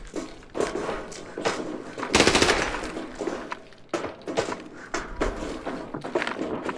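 Bursts of automatic gunfire in Arena Breakout Infinite, sharp repeated volleys with short pauses between them, loud and close, with a heavier sustained burst partway through.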